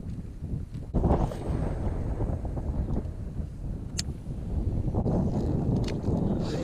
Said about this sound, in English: With all this wind blowing up against this bank, I better prepare.